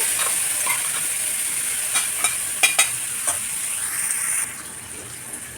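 Ground amla chutney paste fries in a pan with a bright, continuous sizzle, broken by a few sharp spatula stirs and scrapes up close before the hiss eases slightly near the end.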